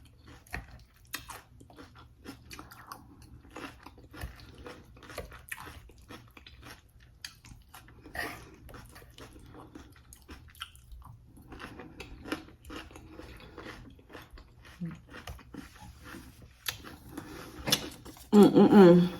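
Close, crunchy bites and steady chewing of a large salad of romaine lettuce, soft wet mastication with occasional louder crunches, eaten alone without talk and ending in a burst of louder handling noise.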